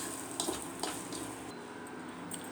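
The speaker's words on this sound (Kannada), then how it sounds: "ಇದು 1-2 ನಿಮಿಷ ಹುರಿದ್ರೆ ಸಾಕು, ಸ್ವಲ್ಪ ಅದರ ಹಸಿ ಸ್ಮೆಲ್ಲು ಹೋಗೋ ತನಕ" A green pea masala filling for kachori fries in a pan with a faint, steady sizzle, broken by a few soft scraping stirs.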